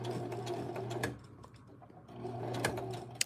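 A home sewing machine stitches across a thick denim jeans hem, running in quick whirring bursts that pause for about a second mid-way, then resume and end on a sharp mechanical clack.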